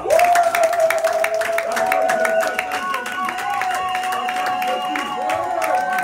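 A church congregation at a Sunday worship service in Sherbrooke cheers and applauds for Jesus, a dense, loud wash of clapping and voices with a sustained sung or shouted tone running through it.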